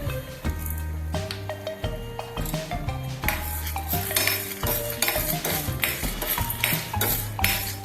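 Urad dal, dried red chilies and black pepper being dry roasted in a pan while they are stirred, making close scraping and rattling clatter over loud background music, with no talk.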